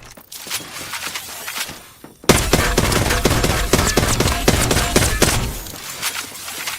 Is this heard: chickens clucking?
no